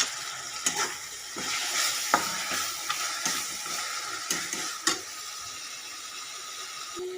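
Masala paste with a few cashews frying with a steady sizzle as a spoon scrapes around the pan in irregular strokes, fairly close.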